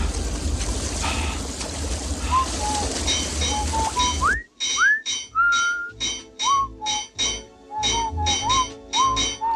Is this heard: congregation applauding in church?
no